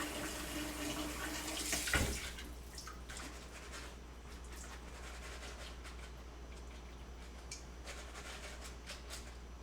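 Tap water runs steadily into a sink while pumpkin seeds are rinsed, a quiet, even hiss with a brief louder splash near the start and faint rubbing and clinks.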